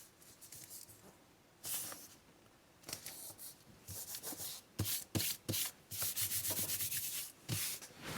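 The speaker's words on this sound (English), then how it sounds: "Something good for wiping this down is a dry baby wipe." Dry baby wipe rubbed over a surface in short bursts, a close scratchy swishing that comes and goes in a quick, irregular rhythm with brief pauses between strokes; no voices.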